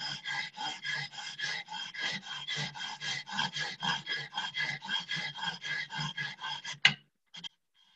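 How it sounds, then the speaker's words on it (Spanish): A dull hand saw cutting material during a home ceramics class: steady, close rasping strokes in an even back-and-forth rhythm, about four per second, ending in a sharp snap and a brief rattle before silence. "Una vez que entró la sierra, es más fácil."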